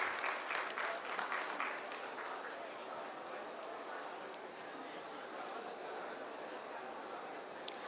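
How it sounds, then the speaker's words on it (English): Audience applause at a hotel-industry procurement conference award in Bengaluru, a soft, fairly distant spread of clapping that is strongest at first, then thins into a steady patter under low chatter. "Claps."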